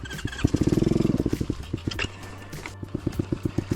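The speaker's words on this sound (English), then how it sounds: "Wow, it's idling just fine." A cheap TEMU dirt bike engine idling close by, a rapid chugging pulse that briefly speeds up then settles into a steady uneven putter.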